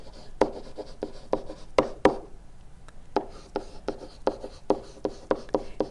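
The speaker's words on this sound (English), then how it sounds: "Let's write that down." A marker or chalk writing on a surface in a math lesson, with quick close taps and short strokes in an uneven rhythm, alone without speech.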